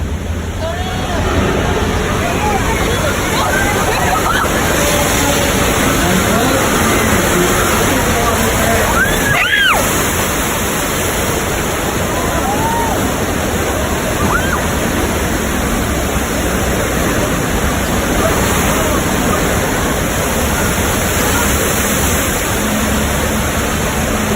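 Whitewater rapids splash and roar steadily over a raft, a loud continuous rush of water that lasts throughout, with a brief sharper splash near the middle.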